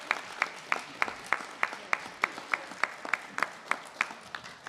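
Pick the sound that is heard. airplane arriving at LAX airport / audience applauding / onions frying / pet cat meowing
audience applauding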